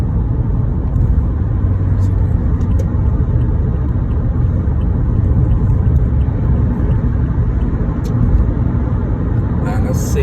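A car speeds up to merge onto the Don Valley Parkway during a driving test route, heard as a steady, close engine and road rumble under continuous talking.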